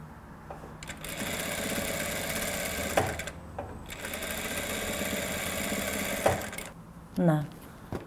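A sewing machine stitches the leg pieces of trousers together in two long, steady, close whirring runs broken by short pauses and clicks, with a brief voice near the end.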